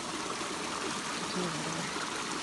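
Creek water flows steadily at a trail crossing in the Great Smoky Mountains, a continuous broadband rush and trickle close by, with no talking.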